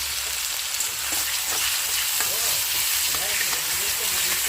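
Tomatoes and onions frying in a pan give a steady, close sizzle, broken by soft scraping and clacks as they are stirred, with no talk.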